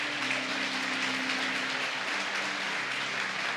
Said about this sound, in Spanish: Vamos, aplauda si va a aplaudir.